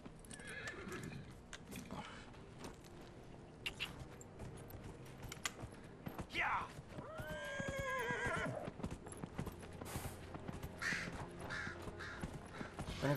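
A horse neighs in the Dragon Age Inquisition video game, a loud whinny in the middle over repeated clip-clop of hooves and ambient game sounds, with no talk.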